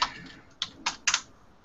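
Four quick, crisp keystrokes on a computer keyboard at close range, coming in a short uneven burst with brief gaps between them and no voices.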